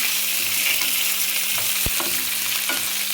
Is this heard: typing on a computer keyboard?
no